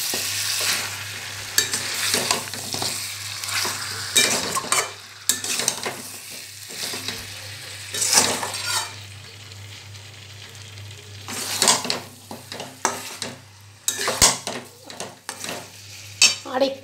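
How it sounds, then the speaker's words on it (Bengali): Mutton curry sautéed and stirred in a pan during slow cooking with a little water, with steady sizzling and repeated scraping, stirring strokes close up, no talking. "হালকা জল দিয়ে 10 মিনিট মতো কষাতে দিচ্ছি"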